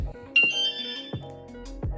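The alarm on a Super73 R e-bike gives its arming confirmation: a few short, bright electronic chirps and tones, close and clear, separated by brief gaps.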